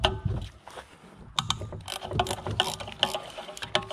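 A ratchet clicks while loosening a bolt on a 2006 Mercedes Sprinter T1N intake manifold, a close series of irregular metallic pawl clicks and short bursts of cranking with a few knocks.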